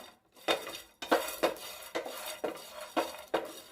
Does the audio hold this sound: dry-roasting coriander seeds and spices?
yes